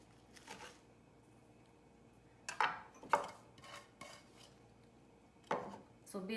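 Fresh basil being roughly chopped for a vegan pesto, a few scattered knife strikes against a cutting board separated by quiet pauses, fairly close and moderately loud, with no talking.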